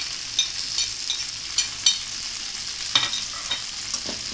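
Garlic, ginger and round chillies fry in a pan with onions for Hyderabadi masala baingan: a steady soft sizzle with scattered sharp clicks of stirring, at moderate volume with no voices.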